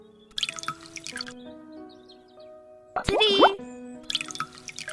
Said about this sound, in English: So 3 bottles of water fill this bowl.